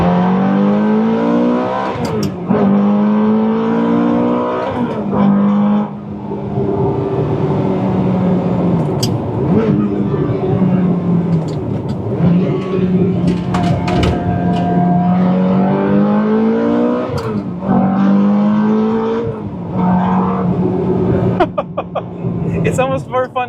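A manual Ferrari F430 engine revs up and drops repeatedly as the driver short-shifts, rising and falling pitch sweeps loud and close from inside the car, with someone talking over it.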